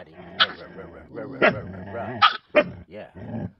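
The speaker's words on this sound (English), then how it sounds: "There's Daddy playing with one of the puppies." Husky dogs, an adult male and a puppy, play and bark in short sharp bursts, with yips and growls mixed in, close and loud, while a person talks over them.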